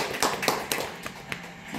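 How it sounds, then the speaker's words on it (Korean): A small seminar audience claps briefly, giving a handful of scattered, uneven claps, fairly close and moderately loud, with quieter gaps between them. "박수."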